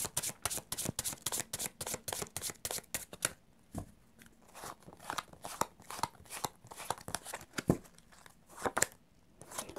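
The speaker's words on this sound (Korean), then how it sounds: "2번째 오라클 카드 마지막으로 한 장 보겠습니다" Oracle cards are shuffled and drawn in quick papery bursts of riffling and flicking, up close and soft, with short pauses between the flurries and no talking.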